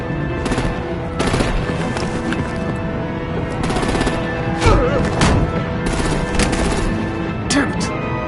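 Gunfire in the Batman: The Enemy Within video game, with rapid bursts of automatic weapons fire and heavy impacts repeating throughout, loud and dense, layered over a steady background hum and score.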